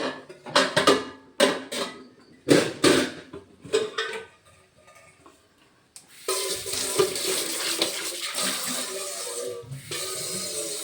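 A kitchen tap fed by a piped water supply gushes in a steady, fairly loud stream after several seconds of irregular clattering and knocking from handled utensils.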